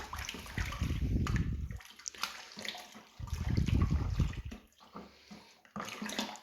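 Lager brew ingredients are stirred into warm water in a vessel, giving a sloshing, swirling liquid sound that comes in two longer surges with quieter gaps between, close and moderately soft.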